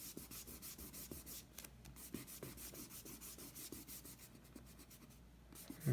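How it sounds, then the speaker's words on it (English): A kneaded eraser rubs back and forth on drawing paper, producing a soft, rhythmic scratchy swishing close to the microphone, with repeated strokes and short pauses. "Let's soft erase this and clean it up. So I'm gonna use my kneaded eraser."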